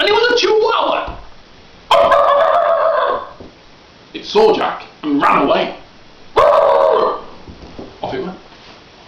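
A voice imitates the barking of an enormous chihuahua in a told children's story: several loud, drawn-out barks and yelps in separate bursts, alternating with his narration.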